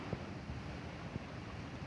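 Strong wind blows during rain in Dahisara, a steady rushing roar that buffets the microphone, with a few faint thumps and no voices.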